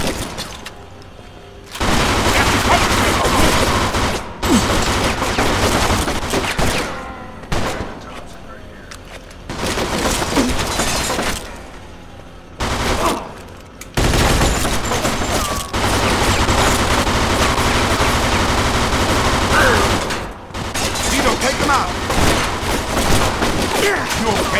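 Gunfire erupts in a shootout in the video game Mafia II, loud repeated volleys and bursts of shots broken by brief pauses across the scene, with voices shouting between them.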